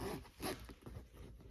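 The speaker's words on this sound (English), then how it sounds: "we have to undo the zipper here." A short zipper on a 2009 Chevrolet Silverado seat cover rasps open in a quick series of scratchy pulls, close and fairly quiet, with no talking.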